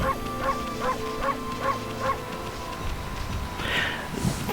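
A wolf in the video game Okami barks in a quick regular series of about six yips, then pauses before a softer, breathier sound near the end.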